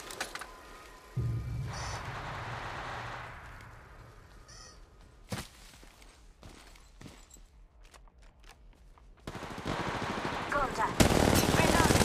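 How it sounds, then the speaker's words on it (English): Gunfire in the Apex Legends Mobile battle royale game, in bursts of automatic shots that start softly and turn loud and close near the end, with other game effects and caw-like sounds in between. "Shooting. Shield battery here. I'm spotted. Taking fire."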